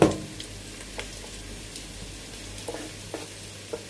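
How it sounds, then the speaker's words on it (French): Onions frying in a pan with chopped garlic added for a fish broth, giving a faint, steady sizzle with a few light clicks of stirring and no voices. "Après avoir fait revenir nos oignons pendant 2 minutes, on va rajouter notre ail déjà haché."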